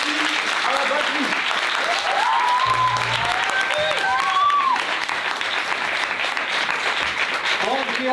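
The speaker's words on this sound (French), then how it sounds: "un tonnerre d'applaudissements pour ces musiciens" Loud, sustained applause from a crowd fills a high school concert hall for the musicians, with people talking over the clapping.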